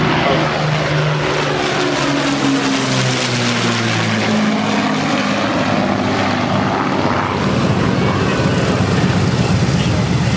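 A vintage propeller warbird bomber flying over a beach air show, its loud droning piston engines filling the whole stretch and shifting in pitch as it passes, with the drone swelling toward the end.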